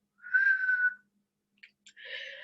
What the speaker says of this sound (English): and a whistling sound.